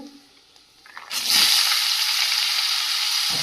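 Quiet start, then a loud burst of sizzling as chopped bottle gourd and potato hit spiced hot oil, continuing as a steady, close frying hiss with a little stirring.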